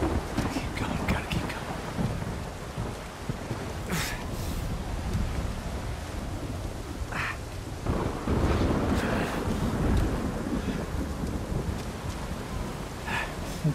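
Steady rain and blustery storm noise from Uncharted 4, with a few sharp bright crackles and thunder-like swells, loud and continuous throughout.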